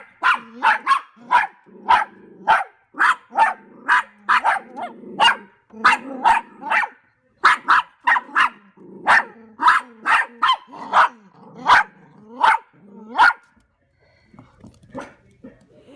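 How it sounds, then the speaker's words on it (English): Puppies bark repeatedly in quick, steady bursts, loud and close, with yips throughout before falling quiet near the end. "we just got a lot of barking going on"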